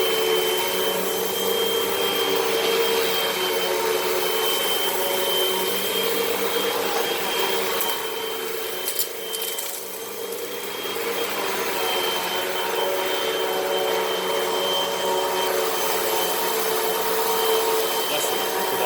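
Hoover Rewind vacuum cleaner sucking sand and dirt out of a carpet, a loud steady motor roar with gritty rattling, a brief dip midway, close up with no talk.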